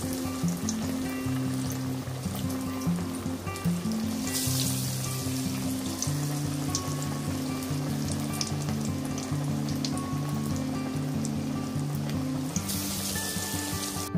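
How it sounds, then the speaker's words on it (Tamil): Masala vada, chana dal fritters, deep-frying in hot oil, giving a steady dense sizzle and bubbling throughout, close and even, with brief brighter hissing bursts and no talking. "எண்ணெய் காஞ்சிட்டு இருக்குது, இந்த எண்ணெயில் அப்படியே போட்டு எடுக்க வேண்டியது"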